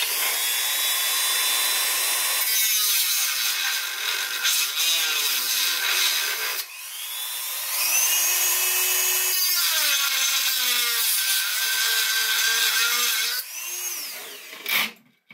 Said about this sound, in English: So forgive the sound of my Dremel,